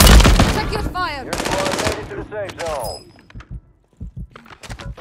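Call of Duty gunfire, loud rapid automatic bursts up close, then scattered single shots and thuds, with voices shouting over the shooting.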